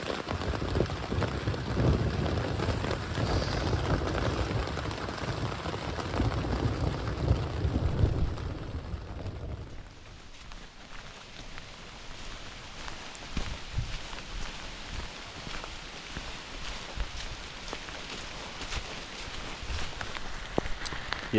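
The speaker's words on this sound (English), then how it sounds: "the rain is coming heavy." Heavy rain drums loudly on a tent during a mountain storm, a dense close patter that drops abruptly to a lighter, thinner rain hiss midway through, with no voices.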